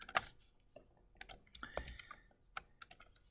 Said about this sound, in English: So you type in the course key or copy and paste it in there